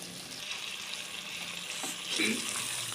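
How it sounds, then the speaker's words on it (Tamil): Pepper chicken fries in a pan with curry leaves, a steady moderate sizzle with a soft stirring scrape and a brief swell of hissing near the end. "இப்போ இந்த சமயத்தில் நம்ம ரெண்டு கொத்து கருவேப்பிலை தூவி கலந்து விடலாம்"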